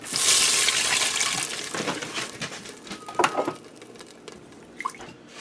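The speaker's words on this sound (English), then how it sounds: "I have a cup of red wine. I'm going to get in here and deglaze the pot" Red wine poured into a hot pressure cooker pot to deglaze the browned bits from a beef roast, giving a loud hissing, bubbling sizzle that fades over a few seconds, with small drips and a scrape near the end.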